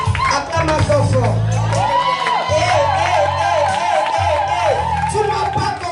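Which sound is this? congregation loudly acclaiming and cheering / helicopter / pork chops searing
congregation loudly acclaiming and cheering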